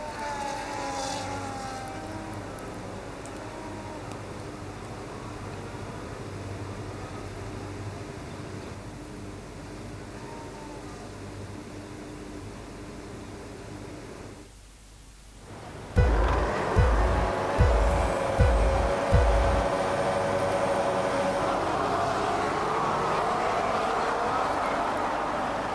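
Formula 1 cars launching off the grid at the Spanish Grand Prix in the racing game F1 25: a steady engine drone, then a sudden loud burst of revving with rapid upshift pulses.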